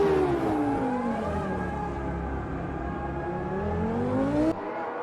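A Formula One car engine in a video game screams flat out down a straight, a loud, steady, close high-pitched whine that rises slightly in pitch, then cuts off abruptly near the end.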